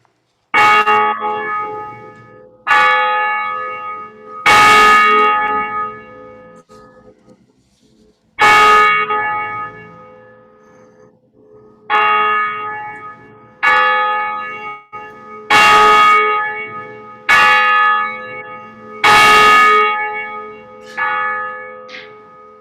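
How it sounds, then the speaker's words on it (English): A church bell rings in a bell tower, loud, resonant strikes repeating at uneven intervals of a few seconds, each one swelling and then decaying into a long humming ring. "the ringing of our bell with Jen in our bell tower"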